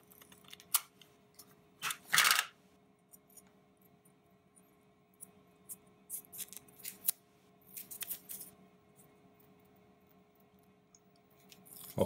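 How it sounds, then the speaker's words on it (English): Scotch tape is pulled off a roll and cut during a fix on an Intel 7260 Wi-Fi/Bluetooth card, heard as a few short, sharp ripping and snipping bursts against a quiet room. "So I'll just be using some Scotch tape."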